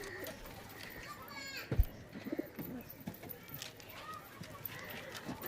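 Giribaz pigeons in a loft making soft cooing calls and brief wing flutters, with a person talking nearby over quiet background noise.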